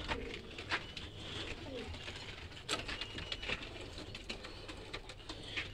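Pure Kasuri pigeons coo repeatedly at close range, soft throaty calls over a murmuring background with scattered taps and rustles, no clear speech.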